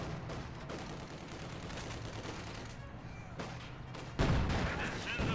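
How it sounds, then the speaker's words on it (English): Machine-gun fire from a tank's hull MG in Company of Heroes 2, a dense, rapid crackle of bursts running throughout at moderate distance, with a louder burst near the end. "did my hull MG just kill that Austrian man?"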